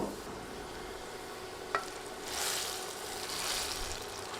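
Browned garlic tempering is poured over simmering red lentil dal. After a sharp click, a hissing sizzle swells up and then lingers softly in the background.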